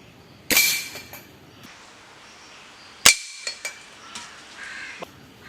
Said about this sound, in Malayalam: നമുക്കിനി ആ ഒരു ബോട്ടിൽ എങ്ങനെയുണ്ടെന്ന് വെടിവെച്ച് നോക്കാം